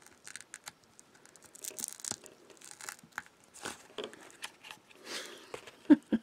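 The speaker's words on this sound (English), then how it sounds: "Let's peel this off." Adhesive sticky back backing being peeled off, with intermittent crinkly tearing and crackling bursts, close up and fairly quiet, ending in a sharper crinkle.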